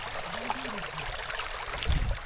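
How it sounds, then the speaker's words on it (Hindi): A stream flowing steadily near a hidden spot in Bacheli, with a continuous broadband wash of running water and a brief low rumble near the end. "देखो कितना मस्त पानी बह रहा है यहाँ"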